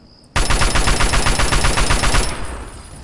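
Machine gun fire in Fallout 3 erupts suddenly as a rapid, evenly spaced burst of about twenty loud shots lasting two seconds, then cuts off into a fading echo.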